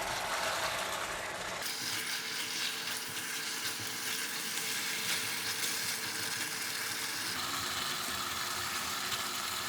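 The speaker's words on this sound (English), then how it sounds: "Now we put in the marinated pork belly. Give it a stir." Marinated pork belly sizzles and crackles steadily in a pot as it is stirred, a continuous bright frying hiss with occasional scraping, close and alone.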